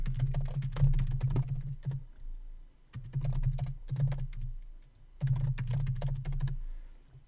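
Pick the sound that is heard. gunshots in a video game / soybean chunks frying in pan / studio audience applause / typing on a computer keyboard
typing on a computer keyboard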